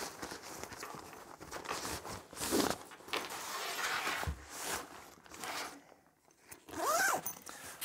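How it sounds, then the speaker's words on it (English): Zip being drawn open along the side of a Razer Concourse Pro backpack, close and fairly quiet, in several short rasping pulls separated by pauses, with handling rustle and fabric shuffling between them. "we've got a zip on the side here. And there, if we open that up"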